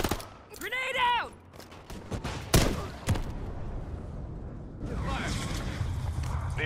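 A Call of Duty MWIII match: a grenade blast and sharp bursts of gunfire crack out amid game sounds, with a voice shouting over the action before a rumbling tail.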